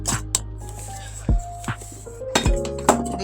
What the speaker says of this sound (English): Stir everything in.